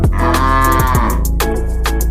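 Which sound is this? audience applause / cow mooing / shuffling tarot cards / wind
cow mooing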